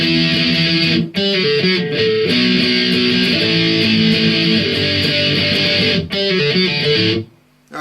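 Distorted electric guitar plays an album's intro riff, slowed down, with power chords and a pull-off figure, loud and sustained with two brief gaps and a quick cutoff near the end.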